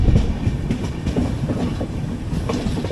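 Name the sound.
goods train of limestone-loaded wagons passing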